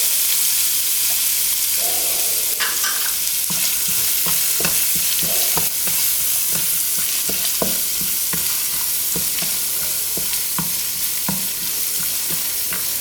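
Chopped green chillies fry in a pan for tomato rice, giving a steady broadband sizzle with frequent scraping stirs and clinks of a spoon against the pan throughout.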